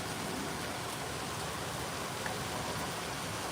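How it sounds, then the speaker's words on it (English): Steady, dense rain pours during a storm in Barnsdall, Oklahoma, a continuous close wash of drops with no break and no voices. "Now the rain's dying off."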